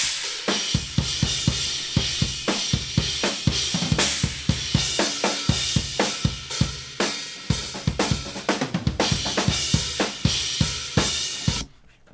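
A full drum kit heard through room microphones plays a steady groove with punchy kicks and crashing cymbals, sounding roomy and slightly distant with a washy ambience.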